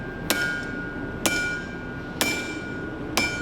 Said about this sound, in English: now use this edge of the hammer and dig into it